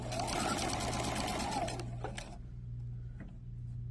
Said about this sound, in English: I'm just top stitching from the right side of the garment at about 1/4 of an inch away from